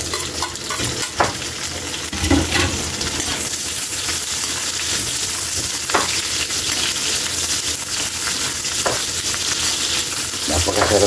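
Onions sauté in a pan for a Filipino chicken dish, a steady loud sizzle with occasional clinks and scrapes of stirring.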